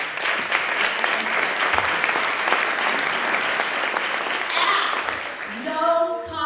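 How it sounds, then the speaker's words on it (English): Audience applause at a chamber of commerce small business awards ceremony, a full, steady roar of clapping from a sizeable crowd that carries on for several seconds before a voice begins speaking near the end. "Another round of applause."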